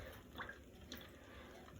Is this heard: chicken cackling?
no